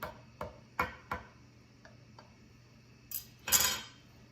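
A fork pricks a raw quiche crust in its pan, giving a few sharp, separate taps and scrapes with gaps between them and a louder cluster near the end, close by and with no talk.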